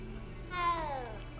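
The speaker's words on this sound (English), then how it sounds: "I forgot how the cats sound. They don't sound like cats at all." A single stylized cat meow in the Hogwarts Legacy video game, a rising then falling whine lasting under a second over a low background hum, moderately close and clear.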